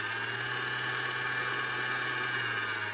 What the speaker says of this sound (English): we need to change the attachment, because now we want to whisk it. Add your whisk. Give it a good whisk.